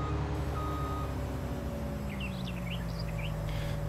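Steady reversing beeps from a farm vehicle in Farming Simulator 19, a sustained repeating tone over a droning engine, with a few bird chirps in the background and no talking.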